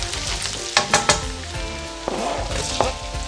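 Onion sautés in a pan of garlic for Filipino chicken pastel, a loud close sizzle broken by several sharp stirring scrapes and clanks.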